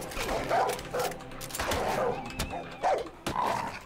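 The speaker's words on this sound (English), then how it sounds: "Oh, and a dog of their own." Dog from the Far Cry 5 video game barking and whimpering in short yips and bow-wows amid game sounds, with a voice talking over parts of it.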